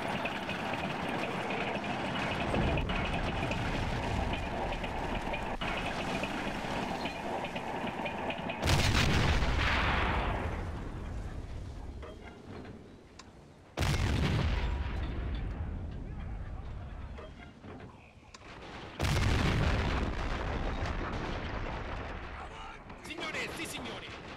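Artillery fire in the war game Men of War: Assault Squad 2, with loud booming gun blasts repeating every few seconds over dense rumbling battle noise and someone talking.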